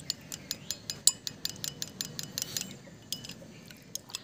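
A spoon stirs three ingredients with lemon juice in a bowl for a homemade hair remedy, giving a steady run of light, close metallic clinks and taps against the bowl, some louder than others, with no talking.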